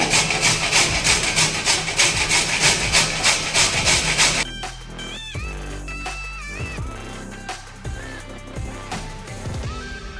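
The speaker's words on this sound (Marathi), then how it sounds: "जरा मीडियम आकाराच्या होलाची किसणी घ्यायची आणि व्यवस्थित किसून घ्यायचे" Carrots are grated on a medium-hole grater for carrot barfi, first as fast, loud, regular rasping strokes, then slower, sparser scraping with knocks and pauses.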